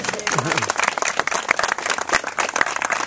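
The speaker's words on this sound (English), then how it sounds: "Round of applause for Ryan." Audience applause at the opening of a basketball court: steady, dense clapping from a crowd fills the whole stretch at moderate loudness, with scattered voices and cheers mixed in.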